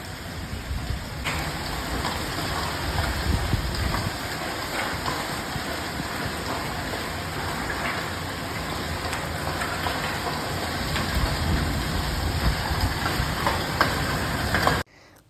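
A nor'wester storm roars with driving rain and strong wind, a dense, unbroken wash of noise with occasional dull thumps, steady and loud until it cuts off near the end.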